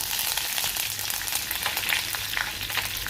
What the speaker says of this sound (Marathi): मोहरी घालूया, जिरे घालूया, त्यानंतर ठेचून घेतलेला लसूण, त्यानंतर कढीपत्ता